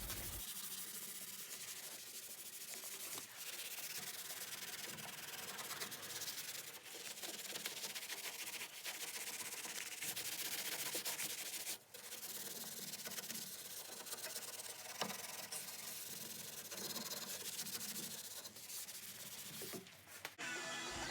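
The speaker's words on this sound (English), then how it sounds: "Now that I have all of the primer thoroughly sanded and cleaned with 400 and 600 grit" Hand sanding of primer on the door jambs of an R33 Skyline with 400 and 600 grit paper, a continuous, faint, hissing scrub of steady back-and-forth strokes with no talk.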